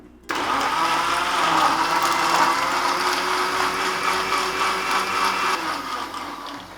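A mixer grinder jar blends watermelon loudly and steadily for several seconds, a continuous whirring blend with no talking over it.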